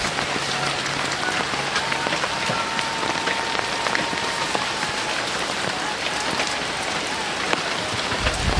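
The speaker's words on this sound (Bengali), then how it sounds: "একটানা দুই তিন দিন যাবৎ প্রচুর পরিমাণ বৃষ্টি হচ্ছে" Steady heavy rain pours down on a village yard flooded after days of rain, a dense hiss of drops hitting surfaces that continues without pause throughout.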